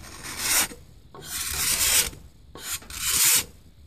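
A card scraper with a freshly turned burr is drawn across wood in three firm, rhythmic rasping strokes, close and clear with short pauses between them.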